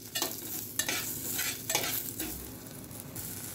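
Garlic and green chillies being sautéed in a pan, a steady hiss of frying broken by a few louder scraping stirs of a spoon against the metal, close and without talk.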